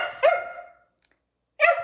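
A four-month-old puppy gives two sharp, high yips, close and loud, separated by about a second of silence.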